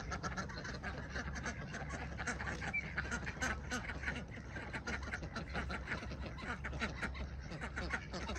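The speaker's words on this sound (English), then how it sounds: "You got ducks from every angle" A crowd of ducks being fed at the water's edge, many overlapping quacks and honking calls in a busy, continuous chorus, close and fairly loud with a faint background voice now and then.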